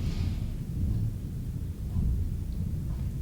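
Thunder rolls in the background as a low, continuous rumble, steady and fairly faint, with no talk over it.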